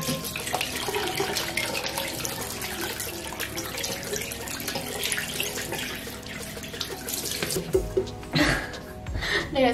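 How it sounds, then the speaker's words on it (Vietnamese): Tap water runs steadily into a bathroom sink during face washing, a continuous close splashing with hands scooping and a few louder splashes near the end. "rửa mặt"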